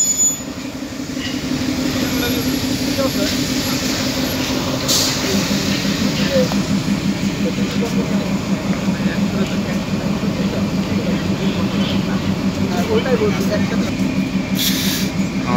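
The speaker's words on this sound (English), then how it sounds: "ট্রেনটি এখন ছেড়ে যাবে।" The Nilsagor Express departing Nator railway station rumbles steadily with rhythmic clacking of wheels over rail joints and occasional high squeals, loud and continuous throughout.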